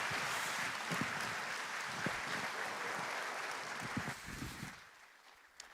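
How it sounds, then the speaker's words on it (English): Applause from a large audience at a banking conference's annual meetings, a dense even wash of clapping that carries on steadily before thinning and fading toward the end. "please, give a round of applause to the one and only Aliko Dangote"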